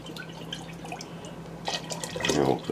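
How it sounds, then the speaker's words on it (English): Rabbit stew broth poured from a pot into a jar, a short close liquid trickle and splash that grows fuller toward the end. "Put the rest of the broth in this jar here."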